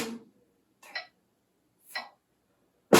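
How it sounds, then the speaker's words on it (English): Four short, sharp snare drum hits are spaced about a second apart, each a quick, crisp crack. The strikes are close and fairly quiet, with silence between them. "when I play on snare drum, the note is really quick"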